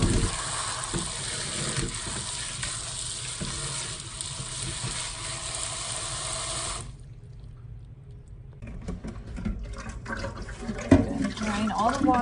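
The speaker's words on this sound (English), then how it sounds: "Rinse them off under some cold water." Cold tap water runs steadily over fresh cilantro in a salad spinner, making a continuous rushing splash. The flow stops partway through, and then quieter handling and dripping sounds follow.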